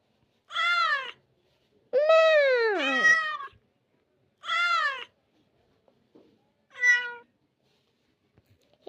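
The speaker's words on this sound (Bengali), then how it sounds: "সব বিড়ালরা ম্যাও করছে।" Cartoonish cat meows from a magic app's sound effect, five separate mews in a row, the middle ones overlapping in a quick double call, each crisp and isolated against silence.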